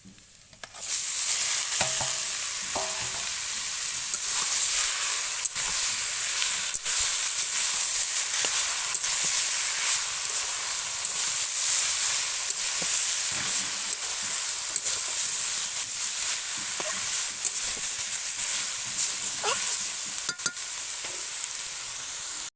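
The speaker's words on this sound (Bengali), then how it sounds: "এরপরে এই শাকগুলোকে ঢেলে দেবো।" Leafy greens tumble into a pan of hot oil and fried crushed garlic, setting off a loud, continuous sizzle. Stirring scrapes run through the steady hiss, with no speech.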